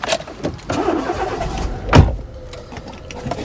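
A car engine cranks and catches with a sharp burst of ignition near the middle, then settles into a low idle, heard close from inside the vehicle with light rustling around it.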